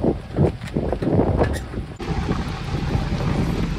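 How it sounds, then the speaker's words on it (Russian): Strong, gusty wind roars and buffets the microphone continuously at a shop construction site, with a loud rumbling rush that never lets up. "Сегодня ветер вообще могучий."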